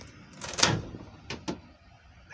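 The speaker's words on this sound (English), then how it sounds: "Now we're gonna open the door." A house door opens: a clunk of the latch and handle, then two quicker knocks or clicks of the door swinging, fairly close, with faint room noise in between.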